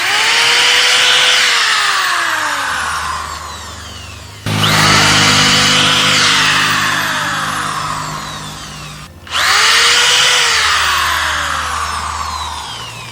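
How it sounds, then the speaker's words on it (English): A power drill bores holes into bamboo plants outdoors in three loud bursts, each starting high and whining down as the bit bites in, close with brief gaps between. "go right down the line of the bamboo plants here and drill some holes"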